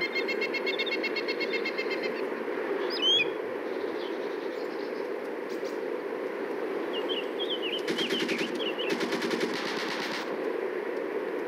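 Intense gunfire in a military simulation game: a dense, continuous roar of shots that thickens into louder bursts near the end, with faint bird chirps over the top.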